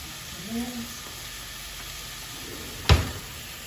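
Hamburger meat sizzles in a hot pan while lasagna is made, a steady frying hiss throughout with a sharp clank of the pan or utensil near the end.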